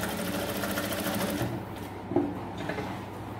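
A Jack F5 industrial sewing machine runs a fast, steady stitching whir up close, then slows and stops with a brief clunk partway through, no talking.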